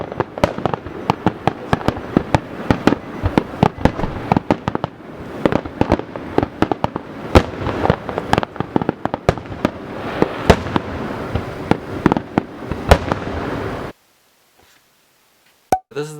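Australia Day fireworks explode in a dense, continuous barrage of sharp cracks and pops at varying distances, the rapid bursts cutting off abruptly near the end, with one or two faint reports after.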